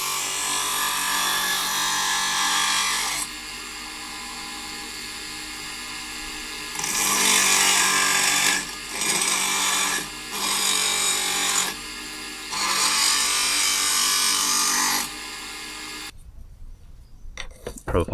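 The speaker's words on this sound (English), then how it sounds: "With the knife blank roughed up, the profile is now refined on a bench grinder." Bench grinder refining the profile of a San Mai knife blank, a loud, steady broadband grinding roar in several long bursts separated by short pauses, ending with quieter scrapes.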